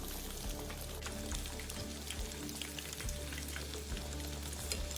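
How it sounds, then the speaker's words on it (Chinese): Pork ribs in red fermented bean curd marinade deep fry in hot oil, giving a loud continuous sizzle and crackle close by, with occasional pops and turning sounds as the pieces are flipped. "整个完整油炸过程约10分钟左右，煎中必须不停将肉块翻面"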